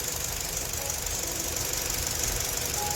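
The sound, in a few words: car engine running after coolant flushing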